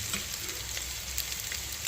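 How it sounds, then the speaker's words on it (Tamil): Onions fry with spices in a pan while being stirred, making a dense, close sizzle with quick scraping strokes and crackles running throughout. "வெங்காயம் நல்லா பொன்னிறமாக ஆகுறது வரைக்கும் நல்லா கிண்டி விட்டுக்கணும்."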